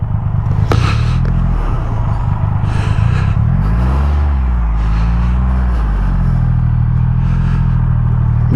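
A 2021 Triumph Rocket 3 GT motorcycle's big triple engine rumbles loudly up close, its deep note rising and falling as the rider revs and shifts, with a few rattles and wind bursts over the steady drone.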